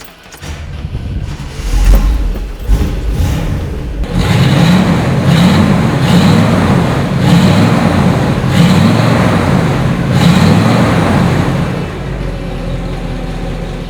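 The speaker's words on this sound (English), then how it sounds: "How about I start it for you so you can hear what it sounds like, because with that big 348, the triple deuces underneath, makes a nice rumble out the back" A 1958 Chevrolet Impala's 348 V8 with triple two-barrel carburetors cranks and fires at about four seconds, then settles into a steady, loud, deep rumble from the exhaust, running alone with no talking.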